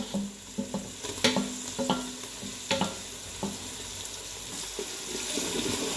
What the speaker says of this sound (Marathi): आता टाकूया बघा कढीपत्ता, आता टोमॅटो पण टाकून भाजूया।